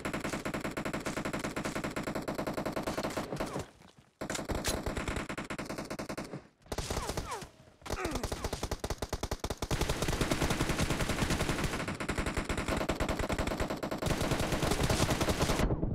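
Rapid machine-gun bursts from the mobile shooter PUBG Mobile in a warehouse team deathmatch, loud and nearly continuous with a few brief pauses, the firing thickening into heavy overlapping fusillades toward the end.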